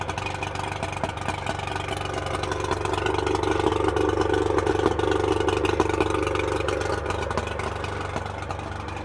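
Old fiberglass runabout boat's freshly restored engine with cleaned carburetors idling smoothly and steadily, a continuous low mechanical hum at moderate level throughout, with no talking.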